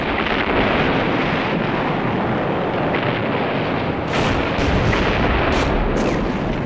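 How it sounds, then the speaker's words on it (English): A naval artillery bombardment rolls and echoes around cliffs as a loud, continuous, thundering roar, with sharper blasts bursting through near the end. "Terrific bombardment, awful noise rolling around the cliffs."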